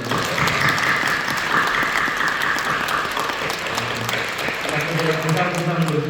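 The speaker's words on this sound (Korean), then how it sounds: "뜨겁게 격려하는 박수 한번 해주세요" A church congregation at a Friday night prayer service claps warmly in a steady burst, with voices rising beneath the applause toward the end.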